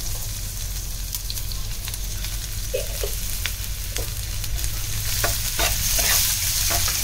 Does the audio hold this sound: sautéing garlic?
yes